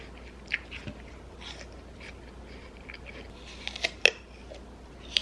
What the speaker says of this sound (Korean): 배가 고파가지고 사과 좀 먹고 먹으려고요